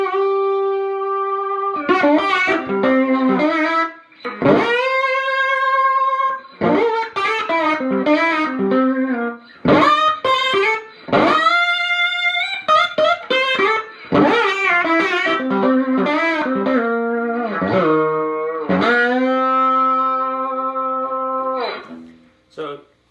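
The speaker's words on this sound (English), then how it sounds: "blues-based slide that I think probably most people watching this are familiar with" Blues-based electric slide guitar, distorted phrases sliding up to long sustained notes, played loud and close in bursts with short pauses.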